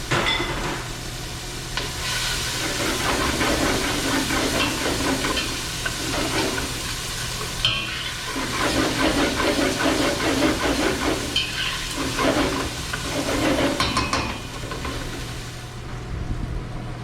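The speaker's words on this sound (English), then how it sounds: "Gonna add all of my onion." Onion sizzling and frying in a hot pan, a steady hiss and crackle with stirring sounds rising and falling in waves, close and moderately loud with no talking.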